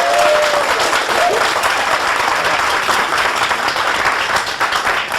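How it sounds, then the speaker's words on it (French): Dense, steady applause from a studio audience on a television show, loud and continuous throughout with no pauses, filling the whole stretch. "On applaudit pour la RTV."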